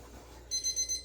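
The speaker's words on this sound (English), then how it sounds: "That's the timer for my noodles." A kitchen timer counting down for noodles goes off with four quick, high electronic beeps in an even rhythm, clear and fairly close over faint room noise.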